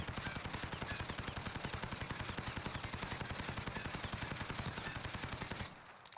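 A PP-19 Bizon submachine gun fired in Call of Duty Warzone, one long unbroken burst of rapid, evenly spaced shots lasting several seconds before stopping abruptly.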